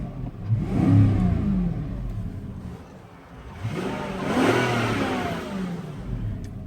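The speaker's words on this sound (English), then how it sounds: "I'll give you just a very quick rev" A 2007 Volvo XC90 V8 blips twice in quick succession, each rev swelling loud and close before dropping back toward idle, with no talking.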